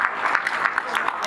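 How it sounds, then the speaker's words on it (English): Applause from the audience at a children's science show, steady dense clapping throughout, fairly close and moderately loud, with no pauses. "And a big, big round of applause for Manasa, please."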